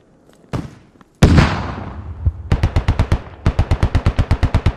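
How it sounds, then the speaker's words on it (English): A blast goes off in front of a Humvee in the Squad Ops military video game, a loud boom and rumbling decay followed by rapid bursts of automatic gunfire, close and intense with no talk. "An explosion right in front of a Humvee."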